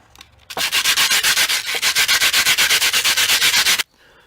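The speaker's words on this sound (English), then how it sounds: "take some coarse sandpaper and just turn it upside down and just sand down this" Loud, rhythmic rasping of coarse sandpaper rubbed back and forth over a concrete fingerboard pole bank in quick even strokes for about three seconds, then it stops abruptly.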